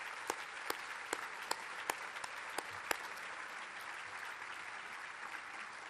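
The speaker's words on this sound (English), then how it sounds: "Let's give them a big round of applause." Broad, steady applause from an audience at a breakfast event, a dense wash of many hands clapping with a few louder individual claps standing out, fairly distant and even throughout.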